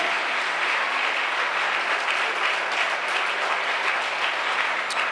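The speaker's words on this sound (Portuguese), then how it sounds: "Dá um aplauso para Jesus aí, dá." Sustained applause from a church congregation, filling the hall evenly and close for several seconds, loud and unbroken.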